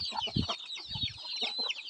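Palawan native chickens, hens among many chicks, cluck in a close, busy run of short calls over a steady thin peeping of chicks, with no talk.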